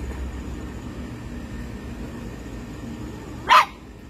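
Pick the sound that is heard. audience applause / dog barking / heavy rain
dog barking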